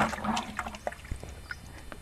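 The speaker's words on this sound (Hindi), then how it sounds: "जब पानी देते हैं आप इसमें थोड़ा पानी डाल दीजिए" Water is poured by hand into a potted chrysanthemum, a short gurgling splash at the start that fades into scattered drips and trickles, close by and without speech.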